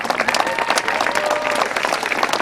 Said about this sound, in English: How about a big round of applause for the new track owners of Midvale Speedway, John and Kelly Chapman.